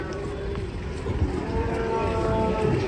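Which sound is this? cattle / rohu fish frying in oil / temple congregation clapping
cattle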